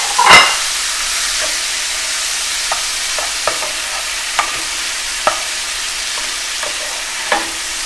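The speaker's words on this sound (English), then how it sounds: "You hear that lovely sizzling?" Bibimbap ingredients sizzle loudly and steadily in a hot pan, a constant hiss broken by scattered pops and a few soft clicks of stirring.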